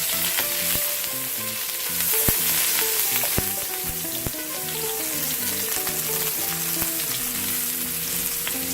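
Garlic and ginger sizzle in two tablespoons of hot oil for chilli chicken, a steady frying hiss running under background music.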